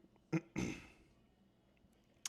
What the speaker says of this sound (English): if anyone notices, I am clearing my throat a lot